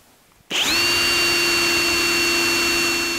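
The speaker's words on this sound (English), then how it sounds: "this is 9/32, I think, but this is a tap size drill" A power drill with a 9/32 tap-size bit bores a hole in a horizontal bandsaw part, starting abruptly after a short quiet moment and holding a loud, steady whine to the end, with no talking.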